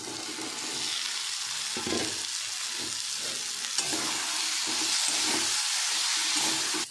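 Masala with salt and turmeric, then fried potatoes, sizzles steadily in a pan for a rohu fish curry, a continuous hiss with stirring scrapes and soft knocks throughout and no talk.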